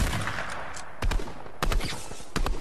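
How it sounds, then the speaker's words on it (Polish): Sharp bursts of video game gunfire crack out in a few separate volleys, close and punchy, over a low background of game ambience. "Ej, ktoś do niego też strzela."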